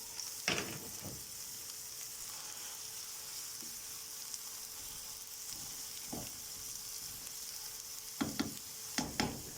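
Minced meat sizzles in a pan with onions, a soft, steady frying hiss broken by the occasional clack of a spoon stirring.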